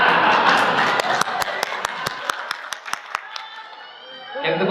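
An audience at a Ramadan sermon in Saudi Arabia breaks into applause, a crowd murmur under a run of crisp, evenly spaced claps that thin out and fade toward the end.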